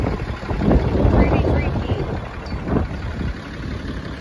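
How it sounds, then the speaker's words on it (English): Strong wind buffets the microphone in low rumbling gusts outside the Masset post office, with a brief spoken remark over it. "it's super windy."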